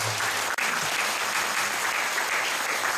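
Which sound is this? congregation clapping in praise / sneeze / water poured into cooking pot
congregation clapping in praise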